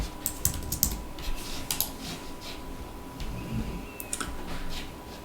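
Computer keyboard keys clack in quick, close taps, several clustered strokes at the start, a pause, then a few more near the end, all fairly clear over a faint steady hum.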